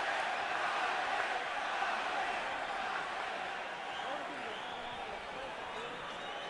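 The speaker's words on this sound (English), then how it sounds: "now the crowd begins to chant for Pacquiao" A large crowd of boxing fans at a Pacquiao versus Marquez fight chanting, a dense, steady roar of many voices heard from within the arena.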